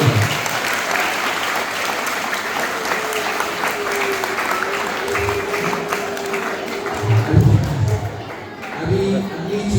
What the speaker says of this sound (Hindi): तो मम्मी और पापा और इन बच्चों के लिए एक बार जोरदार सभी के लिए तालियां हो